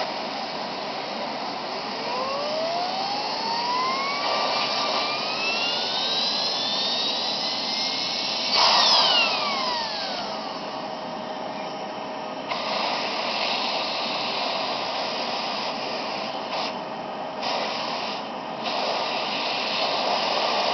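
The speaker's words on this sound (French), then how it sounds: "je vais faire un test avec l'aspirateur pour voir si ça tourne" A homemade turbine, the sixth test build, is driven by a vacuum cleaner's airflow. A steady roar underlies a whine that climbs in pitch as the rotor spins up, then surges, drops and settles into a steady tone before a few brief interruptions.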